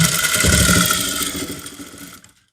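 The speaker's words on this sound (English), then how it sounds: "And then you sew it down" Sewing machine stitching down the pocketing of a trouser, a steady close motor whir with rapid needle rhythm running for about two seconds before cutting off.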